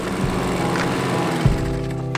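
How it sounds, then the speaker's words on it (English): A lawn mower cutting grass in the garden of a country stone house under renovation, giving a steady, close engine drone with a few brief bumps and no speech. "So I've just whipped around with the lawnmower just to try and prepare the area a little bit"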